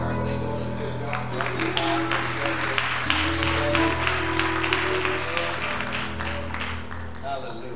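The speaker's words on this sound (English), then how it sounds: "Let's give a warm clap to our band." Church congregation clapping for the worship band after a sermon, a sustained crowd of hands over lingering musical tones and a voice, steady throughout at moderate loudness.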